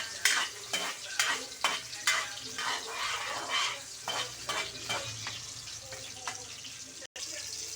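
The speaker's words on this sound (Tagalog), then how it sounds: "Siyempre, gisa muna natin yung sibuyas mga kababayan." Onion sautéing in a pan for squid adobo: a steady close sizzle with repeated stirring scrapes of a spatula at an irregular rhythm, and a brief break near the end.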